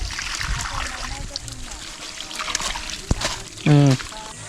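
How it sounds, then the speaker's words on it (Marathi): Water is splashed and poured onto freshly built laterite stone masonry for a shed in an orchard, in short trickling and splattering bursts while people talk and laugh nearby. "बांधकामावर कसं पाणी मारतात ते दाखवतो"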